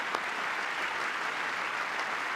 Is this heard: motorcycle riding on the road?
no